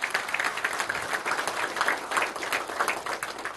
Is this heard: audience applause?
yes